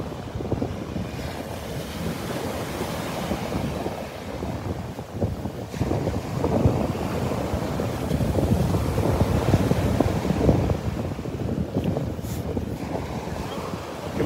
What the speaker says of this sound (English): Enjoying the sounds of the waves right now.